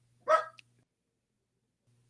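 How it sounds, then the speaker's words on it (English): A single sharp dog bark rings out close by indoors, followed by a brief faint yip, then near silence. "So my dogs are barking,"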